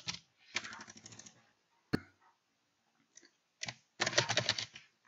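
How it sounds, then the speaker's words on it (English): Typing on a computer keyboard while entering items into a Python Qt application, heard as two close bursts of rapid key clicks separated by a short pause, with a few isolated taps in between. "let's type some items"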